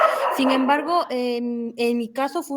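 Small dogs yipping and barking intermittently in a home, close and fairly loud, overlapping with someone speaking Spanish.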